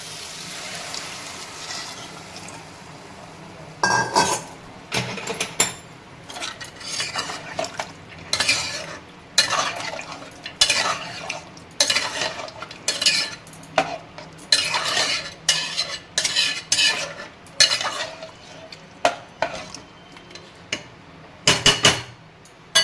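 Potato curry stirred in a pot after hot water is added, a run of repeated scraping and clattering strokes of a spoon against the pot, fairly loud and close, with no speech.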